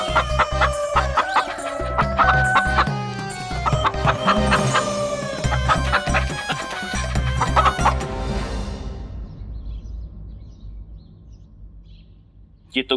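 A hen clucks in busy bursts inside a house during a Tenali Rama TV episode, mixed with voices and background music before the scene fades to near silence.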